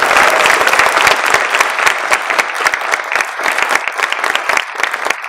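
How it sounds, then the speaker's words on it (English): An audience at a scouting court of honor claps loudly for new Silver Beaver Award recipients, dense sustained applause with sharp individual claps standing out, continuing steadily for over five seconds. "Let's give them one more big round of applause."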